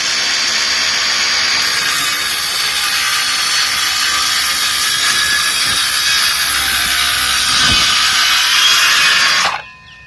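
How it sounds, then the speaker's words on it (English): A DeWalt power saw rips lengthwise through a thick wooden beam with a loud, continuous high-pitched cutting roar, then abruptly stops near the end. "So now we just flip it over and cut the other side."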